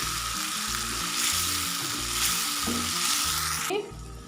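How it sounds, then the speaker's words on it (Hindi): Potatoes fry in a pan with fenugreek masala, a loud continuous sizzle with rhythmic stirring strokes, ending in a sharp scrape. "अब मैं आलू ऐड करूँगी और इसको 2 मिनट के लिए फ्राई होने दूँगी।"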